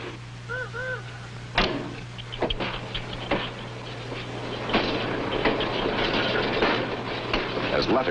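Freight train cars rolling through the New York Central's Frontier Yard at Buffalo, a steady rumble with clanks and metallic squeals, heard under a narrator's voice.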